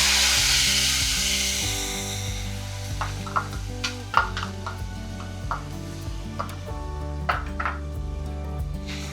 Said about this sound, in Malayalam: എണ്ണ ചൂടായി. കടുകിടാം.